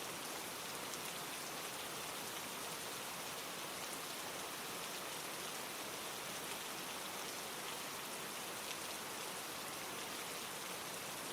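Steady rain falls on a surface, a dense, even hiss of many drops that stays unchanged for the whole stretch, with no voices or other sounds.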